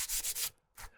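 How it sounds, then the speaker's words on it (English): A Paint Eater sander grinding old paint off bare exterior wood gives three quick close rubbing bursts, a pause, then one more pass, harsh and abrasive with no talk. "that paint eater makes the sanding, grinding paint down really fast"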